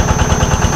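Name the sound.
weakening motorcycle engine idling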